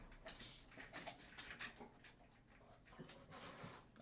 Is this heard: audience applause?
no